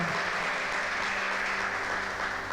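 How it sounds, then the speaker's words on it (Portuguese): A church congregation applauding during a sermon, a continuous, even patter of many hands clapping at moderate distance, sustained throughout without a clear break. "Pode aplaudir se quiser."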